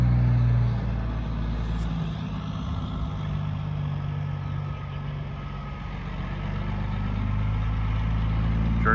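A 1997 Kenworth T600 truck's engine runs at a steady low idle, a deep continuous rumble close by with little change, no talking.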